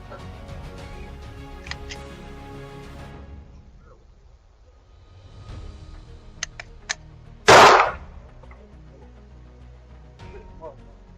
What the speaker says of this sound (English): Two criminals are walking down a neighborhood block at night, trying out some new pistols without a care in the world.